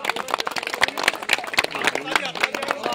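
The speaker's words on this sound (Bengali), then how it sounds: "একবার জোরে হাততালি দাও।" Loud, rhythmic group handclapping goes on throughout at a fishing competition gathering in Bengal, with someone speaking through the claps.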